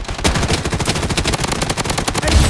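Loud, steady automatic gunfire in Blood Strike, a continuous rapid stream of shots close up, running without pause the whole way through.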